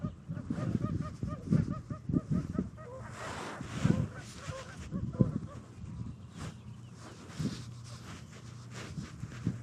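Geese honk repeatedly at close range by a river, with bursts of calls coming and going over a busy outdoor background.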